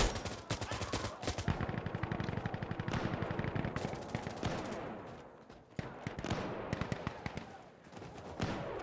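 Dense, sustained automatic gunfire in Insurgency: Sandstorm, many overlapping rapid shots rattling continuously with brief lulls, fairly loud throughout, with faint voices underneath.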